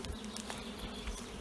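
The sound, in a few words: bees swarming and humming in forest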